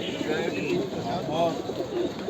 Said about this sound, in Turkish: Evet arkadaşlar gerçekten güzel kuşlar.